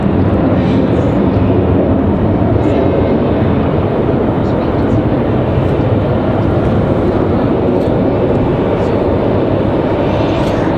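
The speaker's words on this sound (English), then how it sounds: "You hear the A220 for JetBlue off to Boston." Steady loud roar of a JetBlue Airbus A220 jet taking off at Raleigh-Durham airport, a continuous broadband rumble heard from outdoors without any letup.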